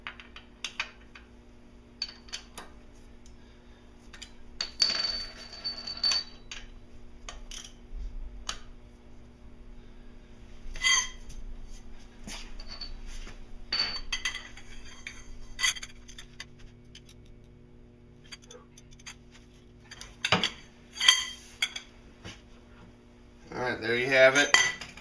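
Metallic clicks and ratcheting from a wrench turning the axle bolts on a 2002 Audi S4 B5 Tiptronic during an axle replacement, with intermittent tool clatter and brief louder bursts near the end, close up and without talk.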